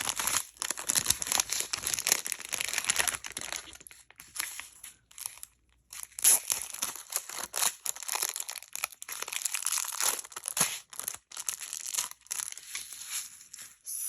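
Crinkly plastic packaging from a nail-supply subscription box being opened and handled: continuous rustling, crackling and tearing for about fourteen seconds, with brief pauses, loud and close.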